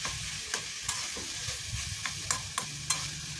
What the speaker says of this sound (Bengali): এবার ফুলকপি আর আলু ভালো করে মিশিয়ে নেব।